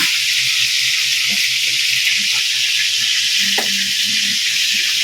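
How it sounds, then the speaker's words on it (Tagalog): Steady broadband sizzle of food frying in a pan, continuous and fairly loud, with faint clinks and movement underneath; no talking. "Nagprepito, maingay background. Nagprepito kasi kami."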